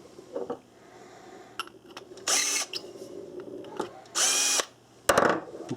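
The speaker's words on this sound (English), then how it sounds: "I just chuck the brass in the drill." Two short bursts of a power drill spinning rifle brass in a case trimmer, each under a second, separated by clicks and handling noises, close and loud with no voice.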